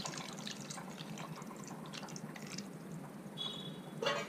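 Mutton stock poured into a pot for Dindigul mutton biryani, a steady close liquid wash with a brighter splashing stream near the end.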